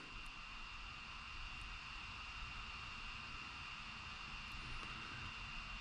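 A Boeing 737 MAX jet engine spins up during start, a steady, even roar with a high whine that holds constant and fairly distant-sounding throughout, with no voices.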